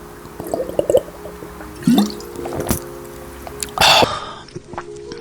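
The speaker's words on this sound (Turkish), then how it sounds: "Bir dakika birazcık su molası." Someone takes a short break to drink water, with close, loud wet sips and swallows in several bursts, followed by a throaty cough or throat-clearing sound.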